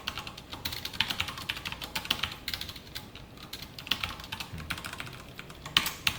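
Someone types code on a computer keyboard in a quick, uneven stream of close, crisp key clicks with small pauses, and nobody speaks.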